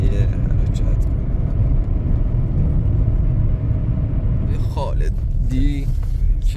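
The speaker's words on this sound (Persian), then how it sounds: "بین راه میخوایم سوار ماشین کنیم و به سمت طلایه حرکت کنیم" Steady low engine rumble from a car in motion on the road toward Talaye, constant and close throughout, with voices briefly cutting in near the end.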